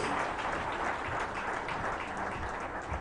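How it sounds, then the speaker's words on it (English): A crowd applauds for Baba Bitrus Pogo at the Middle Belt Save Nigeria Conference, steady dense clapping held at an even level for about three seconds, fairly distant and without voices. "Please, can we give him a round of applause?"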